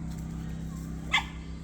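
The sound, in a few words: dogs barking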